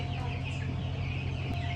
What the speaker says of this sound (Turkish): Bakalım civcivlerimiz çıkmış.